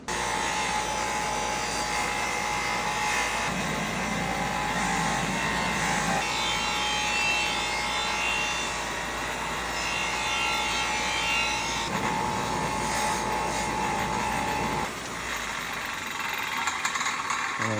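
Steady whirring and rubbing of a polishing wheel buffing a powder-coated part for a 1999 Kawasaki KX250 dirt bike, continuous and close, with a brief shift in pitch near the end and no talking.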